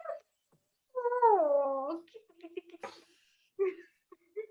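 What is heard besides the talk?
cat meowing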